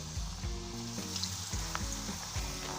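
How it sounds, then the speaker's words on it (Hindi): French fries sizzle and bubble in hot oil over a high flame, a steady frying hiss with periodic low rumbles and crackles, close and continuous. "तेल को ज़रा तेज़ गरम करके उसमें फ्रेंच फ्राइज डालते हैं।"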